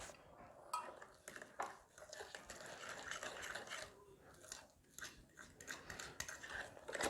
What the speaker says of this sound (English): So then we're going to mix these together.